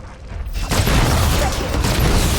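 Heavy automatic gunfire rattles in the Predator Hunting Grounds shooter on PC, a loud sustained burst that starts abruptly and roars densely to the end.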